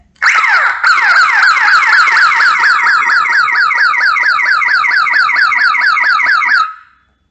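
CCTV alarm output siren switched on through IVMS 4200 software, a loud, close electronic warble cycling rapidly and evenly for about six seconds before cutting off.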